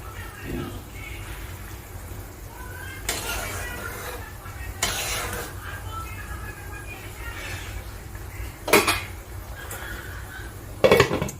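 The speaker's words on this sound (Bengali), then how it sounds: "এবার আমি ঢাকা দিয়ে দিলাম" A metal lid clanks onto a cooking pot of thin Bengali bata fish curry with vegetables, two sharp knocks near the end after a few softer kitchen clinks over a low background hiss.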